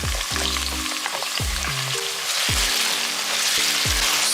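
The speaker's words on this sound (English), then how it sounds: "Stir fry the onions until they become golden brown in color" Four sliced onions hit hot oil in a pan for a Hyderabadi dish and crackle in a loud, constant frying hiss. Low, pitched bubbling drops sound at intervals beneath it.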